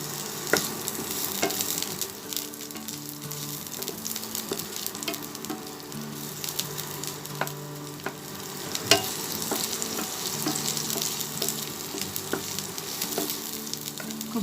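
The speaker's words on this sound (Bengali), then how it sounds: "খুব ভালোভাবে পেঁয়াজটি ভেজে নেব।" Chopped onions sizzle steadily in hot oil in a pan, being cooked for an egg curry: a continuous close crackle with occasional sharp pops and faint stirring scrapes, and no voices.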